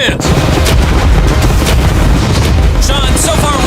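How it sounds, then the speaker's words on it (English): Cannons fire at a yacht in a loud, dense barrage of booms and blasts that fills the whole stretch, with a voice shouting briefly near the end. "Fire the cannons!"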